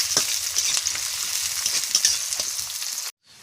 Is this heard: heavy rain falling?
no